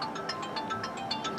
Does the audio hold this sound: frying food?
no